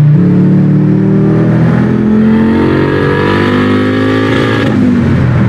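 A tuned Audi engine accelerates hard, its rising multi-tone roar steady and loud throughout, with the external wastegate opening near the end as the pitch shifts.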